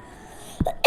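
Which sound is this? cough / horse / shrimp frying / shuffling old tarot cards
cough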